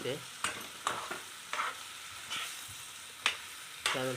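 Small fish sizzling in hot tempering oil for a Konkan-style fish curry, a steady crackle broken by several sharp scrapes and stirring knocks of a spoon in the pan, close up with no voices.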